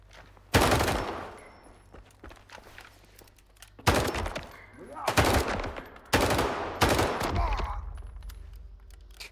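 Gunfire in STALKER 2, a shooter game with the Cost of Hope DLC and 2.0 update: three loud automatic bursts, each a rapid string of shots, separated by quieter gaps with footsteps and rattling.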